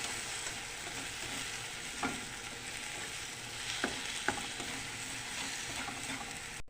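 Eggs fry with bitter gourd (ampalaya) in a pan during morning breakfast cooking, giving a steady close sizzle with a few sharp utensil clicks of stirring and no voices.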